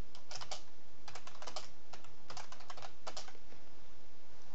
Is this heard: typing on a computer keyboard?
yes